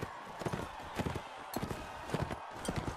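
Hooves clip-clopping from horses in a Mount and Blade Warband tournament, repeated quick thudding beats at close range with brief voice sounds mixed in.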